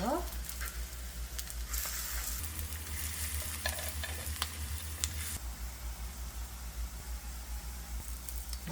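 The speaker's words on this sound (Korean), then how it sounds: "앞뒤로 노릇노릇하게 구우세요." Korean jeon pancakes pan-frying in a generous layer of oil, giving a steady soft sizzle throughout with a low hum beneath and a few faint clinks of a utensil in the pan.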